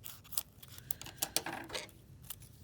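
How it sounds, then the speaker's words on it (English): Scissors cut a red paper strip in half for quilling, close and fairly quiet, with a quick series of crisp snips and rustles. "Then we'll take one of our red strips and we're going to cut that in half."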